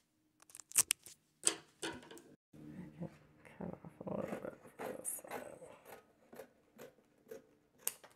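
Scissors snip through the covering material of a coffee can in a handful of close, sharp cuts separated by pauses, with a dog whimpering and growling faintly in the background.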